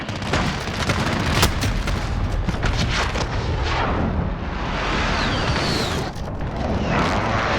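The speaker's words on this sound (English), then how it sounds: "Enemy precision airstrike." Enemy precision airstrike in the Modern Warfare video game, a loud barrage of booming explosions in quick succession, with heavy rumbling blasts and sharp cracks rolling over one another for several seconds.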